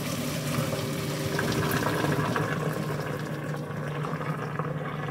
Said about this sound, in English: let's dump the water.